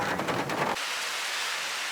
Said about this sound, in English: Rain. It's coming off the trees. And there's the thunder.